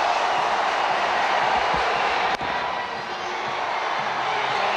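Large cricket stadium crowd roaring steadily at the final ball of a tied match heading to a super over, a dense continuous wash of cheering with a brief sharp knock partway through.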